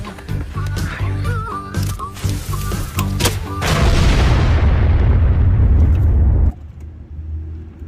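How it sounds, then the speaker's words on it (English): Fuel in a gas bucket bursts into a fireball with a heavy rumbling roar lasting a few seconds, loud and close, then cutting off sharply after some earlier clattering. "jam that in the gas bucket. Yeah. We'll shoot fireballs at it."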